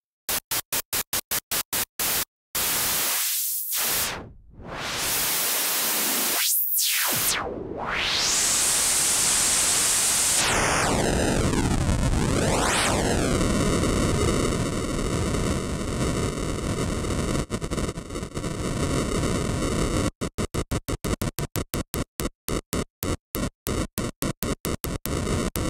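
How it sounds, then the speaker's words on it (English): Digital noise from a Nambu synth app, starting with choppy stuttering bursts and dropouts, then a dense roaring hiss with sweeping filtered fluctuations and a descending tone, ending in rapid gated pulses. "that allows for digital noise. And on top of that, you can add fluctuations."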